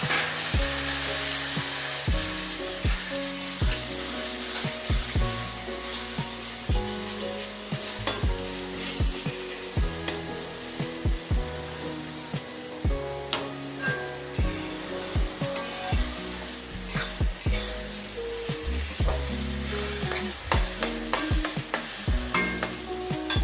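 Five grated onions frying in a pan for a chital fish kalia, with a continuous sizzle broken by frequent stirring scrapes and knocks of a spatula, under steady background music.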